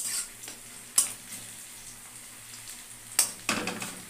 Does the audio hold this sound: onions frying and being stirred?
yes